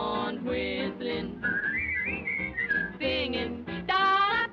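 A melodic tune whistled over music, with sliding, wavering pitches, as singing voices join in around it.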